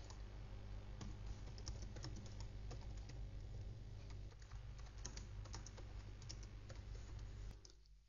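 A computer keyboard being typed on while entering a SQL statement: a steady run of close, quiet key clicks with no talking.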